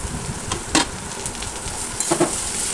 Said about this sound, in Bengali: এবার ভালো করে আমি এই মশলার সঙ্গে মোচাটা মিশিয়ে নেবো নাড়াচাড়া করে